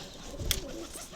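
Pigeons coo faintly inside a cage, one short low murmur close by with a brief clatter in the middle.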